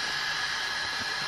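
A Lukey 702 hot air soldering station blows a steady, even hiss of air for a moment, heard alone at a constant level with no talk.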